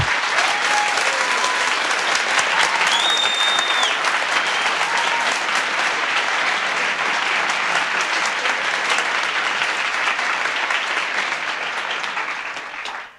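Big audience at a Brandon Sanderson event in Madrid's Espacio Fundación Telefónica breaking into loud, continuous applause, a thick wash of clapping that holds steady for the whole stretch, with faint whistles early, before fading at the end.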